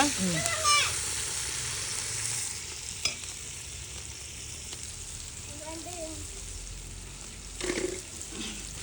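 Meat frying with fennel and mint for village-style biryani, a steady sizzle under stirring scrapes and clatter, with people talking briefly at intervals.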